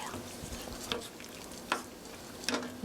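Pork and green onion stirred in a pan with black pepper, the heat off, giving soft scraping and a few sharp utensil clinks against the pan over a faint residual sizzle, close and fairly quiet.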